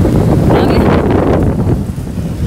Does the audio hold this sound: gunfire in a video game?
no